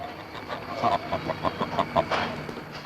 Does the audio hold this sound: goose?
yes